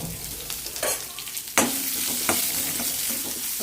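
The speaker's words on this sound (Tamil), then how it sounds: "வெங்காயம் நல்லா வதங்கட்டும்" Onion sizzles in hot oil with fenugreek, curry leaves and dried red chilies. Frying hisses loudly and close, with a few sharp scrapes of stirring and one strong clatter, and no talk.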